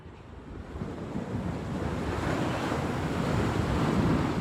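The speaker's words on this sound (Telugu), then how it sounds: "చాలా పెద్ద పెద్ద అలలు వస్తున్నాయి" Heavy ocean surf from big waves in Maui, Hawaii, roars continuously, swelling louder as waves build, with wind buffeting the microphone and no voices.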